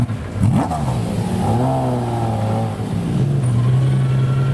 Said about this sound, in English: There's a race car, as the kids exclaim. We are chasing it down the road.